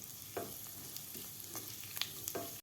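Cumin seeds fry in hot ghee for matar pulao, a soft, even sizzle with several scraping stirs of the spoon at irregular intervals.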